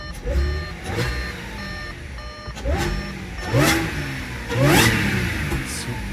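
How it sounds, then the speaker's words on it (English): Supercharged Audi S4 B8.5 starting for the first time after a 207mm pulley install, its engine revving in several rising surges with a loud supercharger whine, close by and without talk. "first startup, and supercharger is super loud now"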